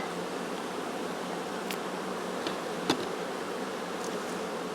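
A swarm of honeybees hums around an open hive from a freshly split colony, a constant close buzz with a few sharp clicks and one brief knock partway through, no talking.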